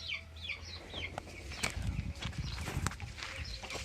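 A Gold Brahma chicken and chicks cluck and peep softly in a garden, with high chick chirps, scattered low clucks, brief wing flaps and rustling steps, all fairly quiet and close.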